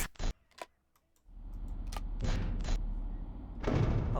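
A door in a power-limited horror video game slams shut with a sharp mechanical clunk, followed by a low electrical hum and a few clicking camera-like ticks.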